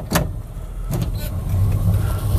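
A car with a Chinese-made carburetor idles steadily after starting, a close, low, continuous engine rumble with a slight rise in level toward the end.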